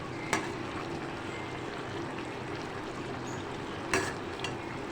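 Eggplant in a garlic gravy cooks in a pan with a steady, moderate sizzle and bubble, broken by two brief clinks of a utensil against the pan.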